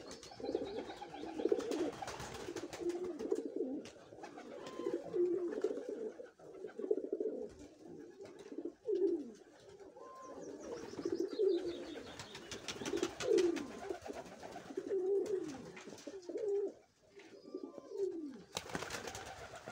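Pigeons coo repeatedly nearby, their soft throaty calls overlapping in an irregular rhythm, with occasional rustling and flapping in the background.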